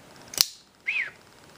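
A single short upward-swooping whistle from a person sounds close and clear, preceded by a sharp click, with no talking.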